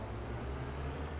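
Ambient road traffic in Farming Simulator 25, a steady low rumble of passing cars and heavier vehicles, continuous and moderately loud with no voices.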